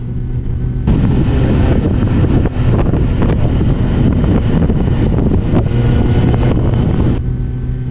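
A loud, steady motorcycle exhaust drone while riding, heavily buffeted by wind noise across the microphone, with no talking.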